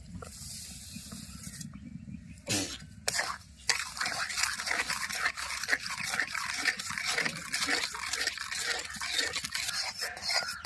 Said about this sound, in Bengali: অনবরত এইভাবে নাড়তে হবে